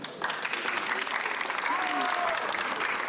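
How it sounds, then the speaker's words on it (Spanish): Audience applause at a book launch by a publishing house, steady and dense throughout, with faint voices mixed in beneath the clapping. "Muchas gracias por esos aplausos."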